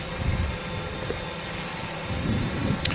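A DJI Mavic Pro drone flying forward outdoors on a breezy day, its thin high-pitched rotor whine held steady over gusty low wind rumble, with no one speaking.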